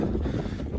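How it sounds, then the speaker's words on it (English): Steady wind buffeting a microphone on a beach at night, a continuous low rumbling roar with no pauses, close and fairly loud. "sorry about the wind, it's a bit blowy."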